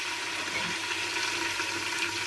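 Water poured into a pan of lightly browned ginger while cooking beef nihari, a steady close splashing hiss that runs continuously without pause.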